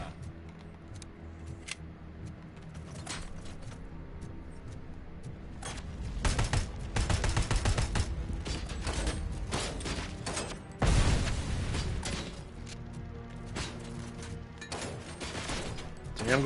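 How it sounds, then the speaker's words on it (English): Grenades explode in a PS5 crime-themed shooter game, a busy stretch of loud, sharp blasts and gunfire-like bursts with a heavier cluster midway and another strong hit near the end, dense game noise throughout. "Here we go with the grenades again."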